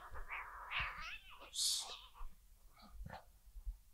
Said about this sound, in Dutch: Dat is een kattengevecht.